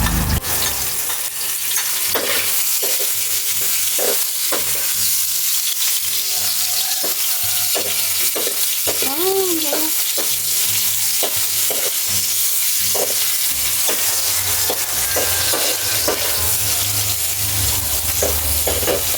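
Garlic, ginger, onion and salt sautéing in a pan for ginataang kiampaw, giving a loud, close, continuous hissing sizzle. Rhythmic scraping and tapping stirring strokes run throughout, with a brief faint tonal squeak near the middle.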